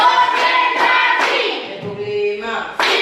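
A class claps hands together in rhythm, a handful of sharp claps spaced about half a second apart, with an adult voice calling a count over them.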